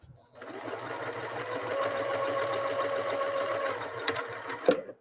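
A sewing machine stitches a zipper pouch in one steady, close run of rapid mechanical whirring lasting a few seconds, then stops with a couple of clicks.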